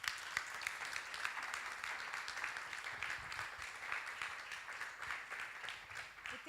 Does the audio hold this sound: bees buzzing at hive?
no